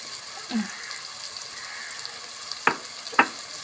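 Beef varattu with chilli flakes stir-frying in a pan, a soft continuous sizzle broken by two crisp scrapes of a spatula against the metal near the end.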